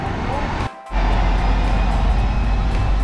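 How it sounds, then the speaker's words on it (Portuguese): A fire truck passes on a New York street with a loud, steady low rumble and roar of traffic. It briefly dips before surging back close and strong, and continues without pause. "carro de bombeiro igual dos filmes"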